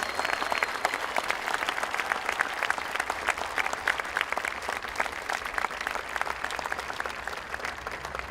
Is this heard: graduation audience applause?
yes